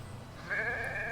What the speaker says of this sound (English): Oh, look at how cuddly that sheep is.